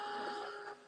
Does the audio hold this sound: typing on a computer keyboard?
no